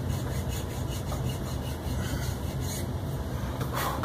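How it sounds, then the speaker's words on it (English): A file cuts grooves into wooden dowels during a Marlin Model 60 restoration, producing a continuous close-up gritty rasping with a steady back-and-forth rhythm. "I'm gonna get the grooves cut in them"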